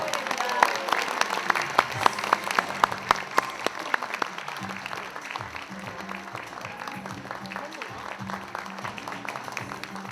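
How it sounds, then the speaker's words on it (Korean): A studio audience at a Korean TV talk show applauds Go player Lee Sedol, the clapping loud and dense at first, then thinning into lighter scattered claps under a low music bed. "박수 부탁드립니다."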